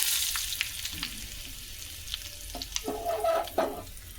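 Curry leaves crackling in a hot tempering oil, a steady sizzle with sharp pops and a burst of spattering near the end, no voice.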